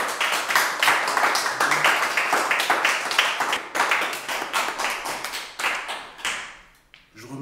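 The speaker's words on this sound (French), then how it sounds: "On l'applaudit, hein, bien fort" A small audience claps with distinct, rapid hand claps for a speaker at a gathering of princesses, keeping up a lively patter before thinning out and fading away at the end.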